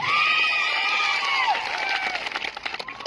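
A crowd at an outdoor political rally on a cricket ground in Baleshwar, Jhagadia, Bharuch, cheers and shouts loudly, with whistle-like squeals. Scattered claps break up the noise toward the end as it fades slightly.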